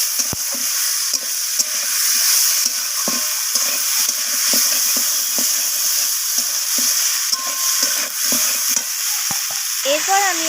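Potatoes stir-frying with the spiced masala for a rohu fish curry with cauliflower and flat beans give a loud, steady sizzle and hiss, with frequent clicks and scrapes of a spatula against the pan all the way through.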